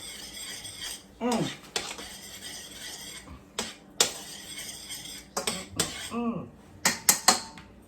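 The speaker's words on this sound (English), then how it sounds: "Give that a stir." Spoon scraping and clinking against a pot while butter and onions are stirred, with scattered metallic taps and sweeps coming in bursts, close and moderately loud, no talking.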